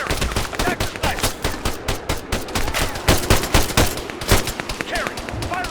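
Dense automatic and rifle gunfire from a military firefight in ARMA 3, with rapid bursts and sharp single shots overlapping throughout, loud and close, while soldiers' voices call out beneath the shooting.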